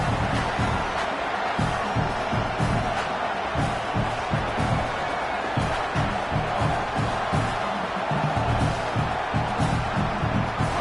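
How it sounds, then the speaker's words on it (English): A home crowd roars throughout a college football video game against Indiana, a dense, steady wall of cheering and noise with no clear breaks. "how nice is it to have the home crowd going absolutely bananas?"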